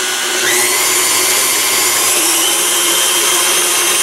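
Electric mixer churning a maple and habanero ice cream base on speed 6, a loud, steady high-pitched whir that ramps up at the start and then holds constant with no talking.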